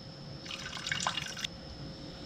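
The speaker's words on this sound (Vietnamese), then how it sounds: "Rồi mình sẽ cho vào đây là khoảng 50 ml nước." About 50 ml of water poured into a passion fruit yogurt mixture, a brief trickling splash lasting about a second over quiet background hum.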